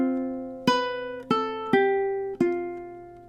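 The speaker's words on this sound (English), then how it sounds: "So 24 sounds something like this." Measure 24 of a song plucked on a ukulele, four clear ringing notes at a steady moderate pace, each one decaying before the next, solo with no voices.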